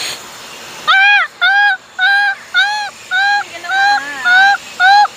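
At a quayside mall, a bird honks in a run of about eight regular, loud, nasal calls close by. It sounds more like a goose than a duck, and there is no clear talk over it.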